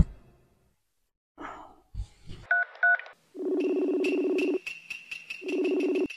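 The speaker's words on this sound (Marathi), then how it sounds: "आपण मम्मीला फोन लावूया." A telephone number is dialed: after a sigh and breathing, a short run of keypad tones sounds, followed by a ringing tone that repeats in loud, steady bursts, close by.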